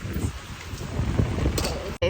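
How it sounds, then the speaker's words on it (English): Pouring rain on a Puerto Rico island outing, a dense, steady hiss close by with gusty microphone rumble, cut by a short gap at the very end. "It's pouring rain."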